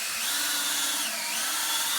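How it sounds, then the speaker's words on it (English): A power drill bores a plumb hole straight through a wooden carving form, a steady high-pitched whining grind held close and loud for the whole stretch with no talk. "I want to drill that hole plumb"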